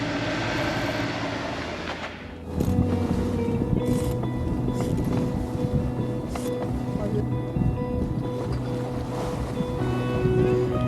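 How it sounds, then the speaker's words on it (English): A sailboat rolls on sea swell in the Adriatic, with a washy rush of water and wind, a sudden shift around two seconds into steadier creaking and sloshing, and scattered knocks throughout. "There'll be a bit of swell rolling around down the Adriatic."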